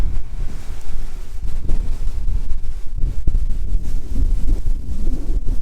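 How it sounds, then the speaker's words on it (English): Strong wind gusting across an open farm field during harvest, a steady broadband roar with buffeting rumble on the microphone, continuous and loud throughout with no talk. "In case you don't believe me how windy it is out here."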